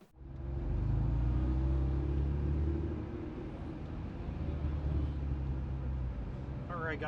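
Honda NSX car at the Waterford Hills race track, a steady loud engine drone and road rumble that holds throughout with slight swells in revving.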